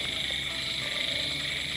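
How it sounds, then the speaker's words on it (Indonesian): Frogs croak from a nearby swamp, a dense continuous chorus of chirping calls that stays steady and fairly close throughout, with no talk over it. "Mungkin kalian mendengar suara kodok ya."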